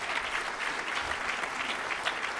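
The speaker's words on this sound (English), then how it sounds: "So how about a big round of applause just to get everything going?" Attendees at a biotech industry association's annual meeting clap together in a brisk, sustained round of applause that stays steady and fairly close, with no speech over it.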